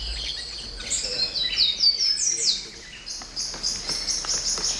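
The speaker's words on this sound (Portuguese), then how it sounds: "a gente escuta muito canto, né, de passarinho." Many birds sing and chirp at once in the Salto Morato nature reserve, with bright overlapping calls and trills over faint insect buzz, steady and lively throughout with no one speaking.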